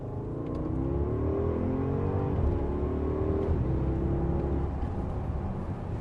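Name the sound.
Porsche Cayenne Turbo 4-litre twin-turbo V8 accelerating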